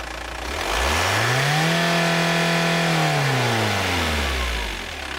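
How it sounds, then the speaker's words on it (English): Audi 80 1.9 TDI diesel engine, single rev from idle to full throttle and held at high revs for a couple of seconds before falling back to idle, loud and close, with no voices. "moving the throttle pedal from idle to full fuel in not more than 1 second"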